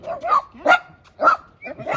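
A young dog on an off-grid homestead in Portugal gives four close, high, yappy barks in an even rhythm, each short and bright with a brief pause between.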